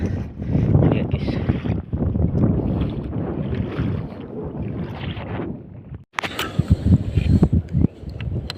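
Strong wind buffets the microphone at sea aboard a small boat during octopus hunting, a loud continuous roar with gusty surges and a brief dropout near the end before the blustering resumes.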